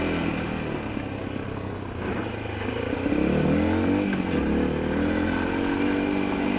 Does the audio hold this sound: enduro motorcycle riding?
yes